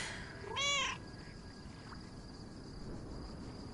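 A single cat meows once from a video game set in a quiet lakeside town, a short harmonic cry rising above a steady hum of ambience, with nothing else following.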